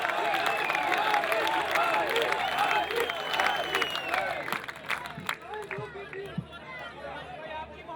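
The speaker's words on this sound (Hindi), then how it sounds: "तालियां बजाएं, तालियां बजाएं" A mushaira poetry gathering audience claps and cheers loudly over excited voices and chatter, the applause thinning out toward the end.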